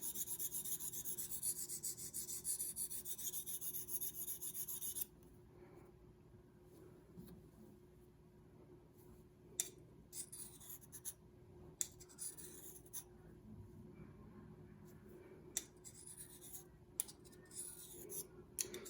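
A knife bevel is sharpened freehand on a handheld stone: a faint, quiet rasp of continuous scraping at first, then softer intermittent strokes with sharp little ticks in between.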